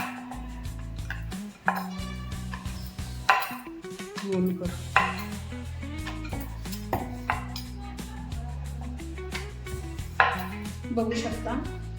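Pumpkin dough puris rolled out with a rolling pin on a board, giving repeated soft knocks and rolling thuds in a steady working rhythm over continuous background music.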